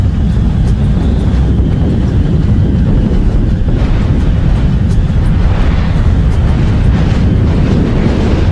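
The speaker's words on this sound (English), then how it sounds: "The shockwave arrives. Next comes the blast front." Explosion shockwave and blast front from an asteroid impact, heard as a loud, continuous, roaring rumble, dense and sustained throughout with no letup and no voices.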